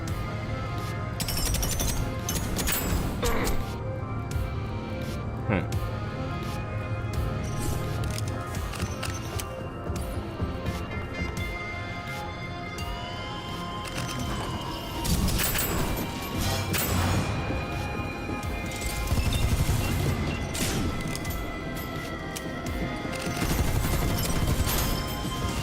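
Explosions and gunfire erupt in the shooter game Deadzone: Rogue, a long, continuous stretch of loud crashes, impacts and rapid shots with heavier bursts scattered throughout, and no voices.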